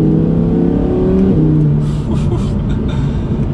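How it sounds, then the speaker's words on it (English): A 2021 Audi R8 V10 rear-wheel-drive sports car accelerates hard, its engine note rising steadily and loudly, then dropping briefly at a gearshift around the midpoint before pulling again, heard up close from inside the car. "So we'll go ahead and give it one last acceleration for today's video."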